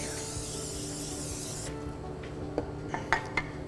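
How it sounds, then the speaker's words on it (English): Nonstick cooking spray hisses onto a baking pan in one steady close burst of about a second and a half, followed by light clinks and taps of the pan. "So first what we're going to do is prep our pan by spraying it so that these don't stick."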